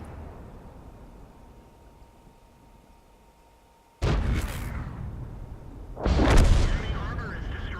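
Artillery fire from an FV 207 in World of Tanks: after a quiet stretch, two loud booming shots land about two seconds apart, each followed by a rumbling decay.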